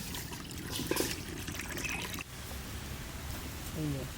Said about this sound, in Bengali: জলটা ঢালছি।